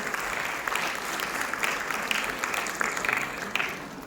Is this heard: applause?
yes